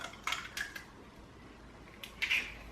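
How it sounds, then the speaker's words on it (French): An egg cracked into a bowl while making apple tart dough with sugar and baking powder: a few light, close clinks and taps against the bowl in two short bursts, otherwise quiet. "Je viens casser mon œuf"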